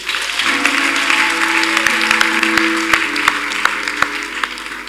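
A church congregation breaks into loud, sustained applause, a dense wash of clapping with a few sharper claps standing out, steady for several seconds with no voices over it.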